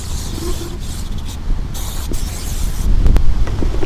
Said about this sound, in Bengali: প্রচুর পরিমাণের বাতাস বাতাসের জন্য আসলে কাজটা করতে পারতেছি না